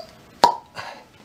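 Foley of a corkscrew drawing a cork from a wine bottle: a sharp, loud pop followed moments later by a softer squeaky release, close and otherwise quiet.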